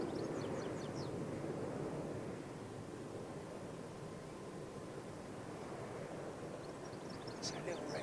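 A Royal Air Maroc Embraer jet at London Heathrow gives off a steady, broad roar that holds at an even level throughout, with some airy background noise.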